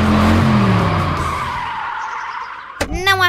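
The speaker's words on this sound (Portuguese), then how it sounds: "Esse é o Dex dirigindo um carro esportivo" A sports car in a Roblox animation drives and skids, its loud engine roar and tire noise sliding downward and fading out before a brief burst of a voice at the end.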